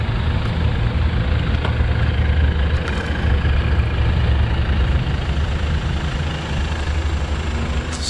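A 2020 Mazda CX-30 diesel engine idles with a steady low clatter, heard up close for several seconds with no talking.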